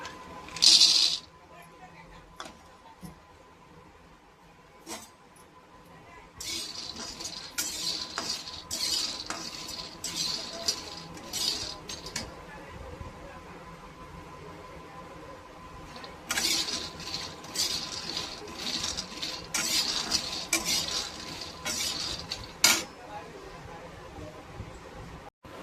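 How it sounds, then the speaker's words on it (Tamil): Peanuts roasting in a pan are stirred with a metal utensil, making repeated scraping and rattling clinks that come in uneven bursts, with someone speaking over parts of the stirring. "பாருங்கள், வேர்க்கடலை நல்லா வறுபட்டுருச்சு."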